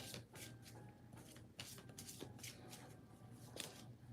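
Oracle cards being shuffled and drawn during a card reading, giving a steady close riffling and rustling with soft slaps and flicks of card stock, and no one speaking.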